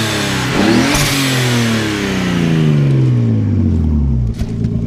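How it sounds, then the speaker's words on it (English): A Nissan Skyline turbo inline-six fitted in a 1969 Triumph TR6 is revved hard while parked, rising to a loud sustained roar and then slowly falling back. The engine is close and there is no talk. "Go ahead and rev it up again."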